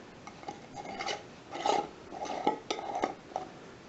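Plastic cap screwed onto a glitter jar, a series of short scraping, rasping twists close by, each turn a brief gritty rub.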